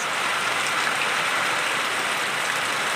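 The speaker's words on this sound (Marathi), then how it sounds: "खूप मोठा जोराचा पाऊस चालू आहे" Heavy monsoon rain pours onto a courtyard in the Konkan region, a dense, loud, unbroken hiss of drops on the surface, close and steady throughout, with no voices.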